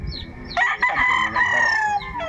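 A rooster crows loudly and close by at a poultry yard, a long drawn-out call over a backdrop of clucking hens and other farmyard fowl.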